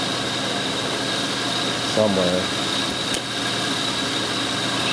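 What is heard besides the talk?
car engine idling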